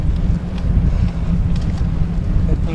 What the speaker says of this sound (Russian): Блин, ветер встречный.